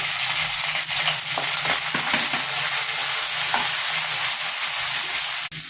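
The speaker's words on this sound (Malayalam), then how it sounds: "നമുക്ക് ഈ വെണ്ടയ്ക്ക ഒന്ന് ഫ്രൈ ചെയ്തെടുക്കാം" Sliced okra frying in a tablespoon of hot oil gives a steady, close sizzle with occasional stirring scrapes, continuous and fairly loud with no voices.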